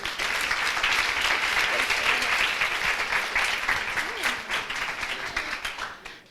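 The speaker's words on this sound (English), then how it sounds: "So please give her a warm applause." An audience at a talk applauds warmly, a dense, even wash of clapping that holds steady for several seconds and then tapers off near the end.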